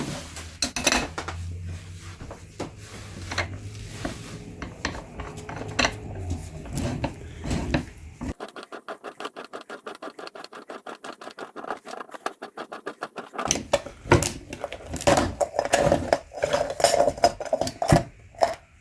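Metal scrapes, clinks and rhythmic grinding as an ACDelco Ultraguard Gold UPF66R oil filter from a 2024 Chevy Silverado 2.7L is cut open. A steady cutting rasp sits in the middle, with clattering handling of the metal before and after.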